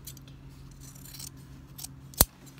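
A single crisp snip of scissors trimming the seam allowance on a sleeveless dress during alteration work, one sharp close cut standing out against a low steady background hum.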